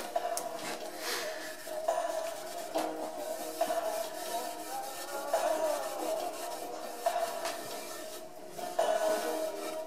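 Fine 0000 steel wool rubbed over a wood finish during a woodshop repair, giving a soft steady scratchy hiss in repeated back-and-forth strokes, close and fairly quiet.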